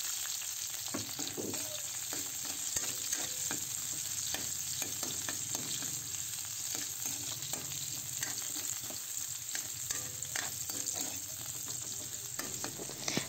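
Sliced garlic and onion sizzle in hot oil with a steady, even crackle, broken by frequent scraping stir strokes. It sounds close and continuous, with no voices.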